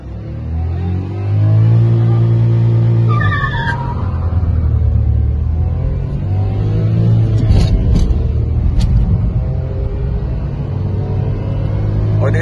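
A Ford Figo and a Maruti Suzuki Swift accelerating hard in a drag race, with loud close engine roar rising and shifting through gears, plus rumble and a few sharp transients, with no talking.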